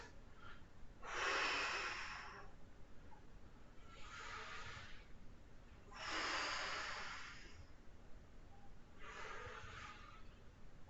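Strong, forceful breaths during a strength flow exercise class, with four loud whooshing exhales spaced a few seconds apart over a quiet background.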